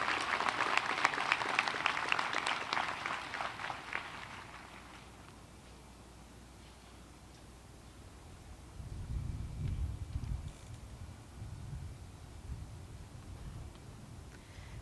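An audience at a CSUN commencement honors convocation applauds graduating senior award finalists; a burst of clapping for about four seconds fades out, followed by low rumbling and handling noise.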